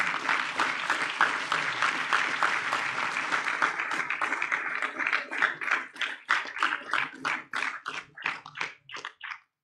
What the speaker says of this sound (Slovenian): hvala vam lepa in še en aplavz.